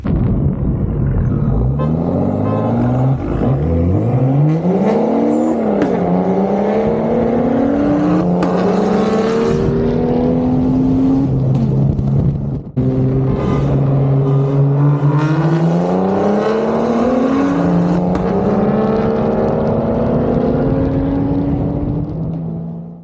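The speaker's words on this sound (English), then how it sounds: "I'm going to drive the car kind of casually to let it cool down" An old BMW car engine with a modified cam revs up through the gears, pitch climbing and dropping with each shift, loud and close, continuous throughout with no talking.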